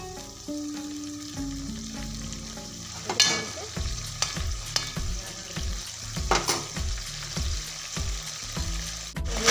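Spiced gravy boils and fries in a pan for a dum aloo dish: a steady sizzle with bubbling, and a spoon repeatedly scraping and stirring through the middle. No voices.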